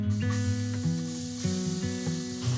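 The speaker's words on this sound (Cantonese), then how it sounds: "就會爆香1半嘅蒜蓉啊同埋辣椒先嘅" Minced garlic and chillies fry in a little oil over medium heat for chicken wing tips, giving a steady hissing sizzle under a constant low tonal hum, close and fairly loud throughout.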